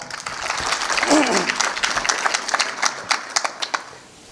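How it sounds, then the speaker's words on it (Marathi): A lecture audience at a commemorative talk applauds loudly. The clapping is a dense, sustained patter that thins into scattered separate claps toward the end, with a voice calling out briefly near the start. "एकदा टाळ्या वाजवा जोरदार."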